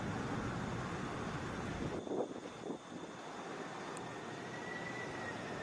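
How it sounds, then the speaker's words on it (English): A Delta Boeing 767 airliner arriving from London, a steady distant roar of jet engines under wind noise that stays broad and even throughout. "Here's Delta 33 coming in from London. That is a Boeing 767."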